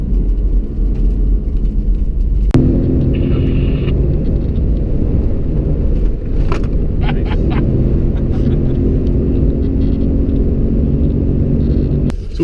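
A 2017 Ford F-150 Raptor's engine drones steadily while holding gears on a high-speed desert off-road run, a continuous loud low rumble with a brief shift in tone partway through.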